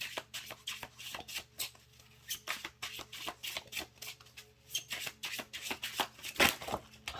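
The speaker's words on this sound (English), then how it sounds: "Let's get one more shuffle." Tarot cards being shuffled, a rapid run of crisp riffling bursts and flicks repeating close up with no talk, one louder snap near the end.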